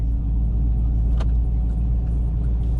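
A car on Nitto 555R2 drag radial tires pulling hard in first gear, giving a steady, loud low engine rumble and road roar inside the cabin with no clear break.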